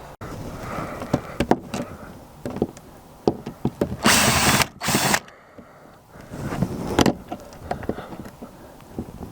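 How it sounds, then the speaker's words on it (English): A power drill unscrews a bent screw from the wall inside a narrowboat, loud whirring bursts in the middle of a stretch of nearby handling knocks and clatter. "I'm going to unscrew it from the wall first."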